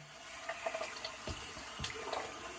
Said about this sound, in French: Donc là j'ai mon blaireau, oui, bon, je vais le rincer, tête en bas, tête en bas